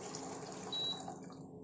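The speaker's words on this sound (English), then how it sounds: "and now I'm going to add water." Water poured from above onto raw rice and salt inside a pressure cooker while making paneer pulao, a steady near splashing and filling rush lasting the whole short stretch.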